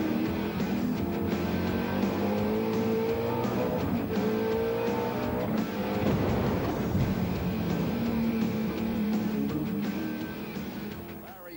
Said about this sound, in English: They come to see big cars going through corners very close together